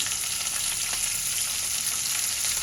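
Cashews, cauliflower and beans roast in a hot pan for navratan pulao, giving a dense, continuous sizzle that stays steady and close throughout with no voices.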